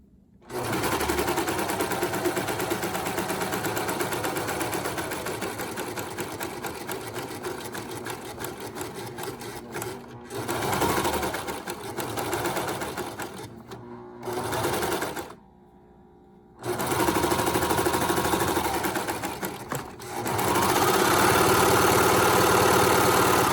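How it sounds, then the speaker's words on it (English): A serger overlock sewing machine stitches fabric for a one-sided romper, running in long loud whirring bursts broken by a few short pauses. "that's our first time going over it with the serger"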